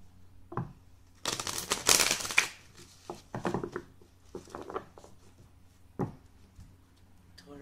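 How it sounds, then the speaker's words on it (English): A deck of tarot cards being shuffled close up in bursts of crisp riffling and patter, with a long dense shuffle early on followed by shorter flicks and taps, alone without talk. "I always like to shuffle my deck on camera."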